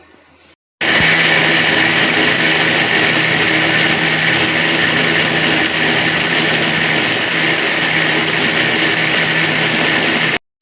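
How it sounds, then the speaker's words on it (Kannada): A kitchen mixer grinder blends jaggery with a little water for a ragi drink, a loud steady whirring grind that starts abruptly and runs without pause for about ten seconds before cutting off. "ಇವಾಗ ಮಿಕ್ಸಿ ಮಾಡ್ತೀನಿ."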